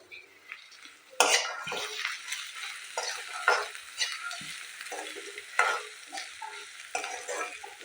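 Boiled peas sizzle in a pan of fried spices while a utensil stirs and scrapes them, giving irregular clinks and scrapes over a steady frying hiss.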